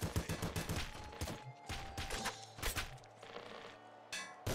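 Pop rifle gunfire in the video game Nuclear Throne, with a rapid burst of sharp synthetic pops followed by scattered shots, thuds and clanks in game action, no talking.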